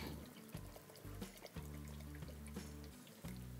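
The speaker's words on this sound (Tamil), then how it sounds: "ஒரு 300 ml தண்ணியை ஊற்றி இவனை மிக்ஸ் பண்ணிவிடுங்க" Water is poured into a pot of rasam as it is cooked, giving a soft, faint, continuous trickle and splash close by with no voices.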